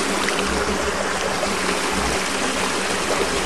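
Water gushes steadily from the float-controlled drain valve of a spring-fed pond, a continuous, loud rushing with no voices.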